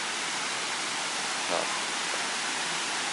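Soi Sawan waterfall in Ubon Ratchathani produces a steady, dense broadband roar of flowing water that holds at an even level throughout, close and continuous.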